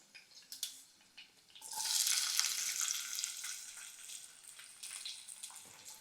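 Cumin seeds and onions hit hot oil in a frying pan for a cluster bean and tomato curry, a loud continuous sizzle bursting up after a few soft clinks and holding steady to the end.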